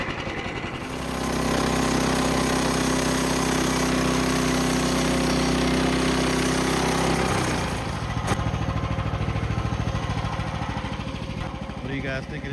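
Loud, steady mechanical whine and rumble of a sawmill blade cutting through a short walnut log, running continuously for several seconds, then shifting to a rougher machine drone as the cut ends.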